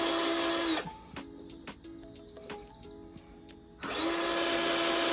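A power tool working bolts loose from the tail section of a Honda CBR1000RR runs loudly and steadily, stops for about three seconds while faint clicks and chirps are heard, then starts again at full whine. No one speaks.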